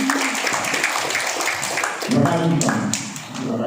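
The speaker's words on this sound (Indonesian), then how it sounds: "Tepuk tangan lagi istri saya" An audience at a diet seminar applauds in a light, steady patter of clapping under sustained music and a voice, heard moderately loud through the room.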